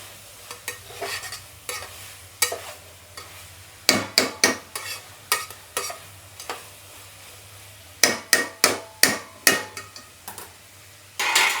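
Capsicum cooking in a pan for pav bhaji, a faint low sizzle broken by bursts of sharp rhythmic clacks and scrapes of a utensil against the pan, loudest in clusters midway and near the end.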